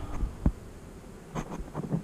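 Honeybees buzzing close around a beekeeper, a faint low hum with a few louder brief passes near the microphone.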